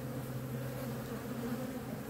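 Honey bees humming at a hive while two swarmed colonies are being combined, a steady low buzzing drone that stays even and close throughout, with no other sounds.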